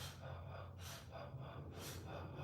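Slow, smooth breaths during a guided relaxation exercise, two soft airy swells of breath at a steady pace over a constant low hum, close and quiet.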